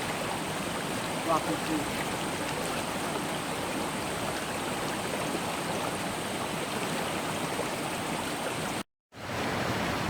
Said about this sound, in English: This is one of the feeding rivers.